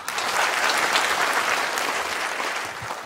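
A crowd claps for a young child who has just said what he wants to be, giving a dense, even round of applause that runs loud throughout.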